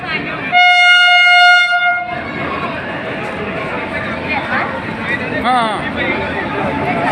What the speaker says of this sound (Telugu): మేము ఎదురు చూస్తున్న ట్రైన్ రానే వచ్చేసిందండి తిరుపతి ట్రైన్